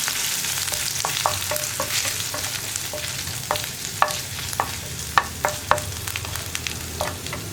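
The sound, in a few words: ginger and garlic stirred while frying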